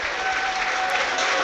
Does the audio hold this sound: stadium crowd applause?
yes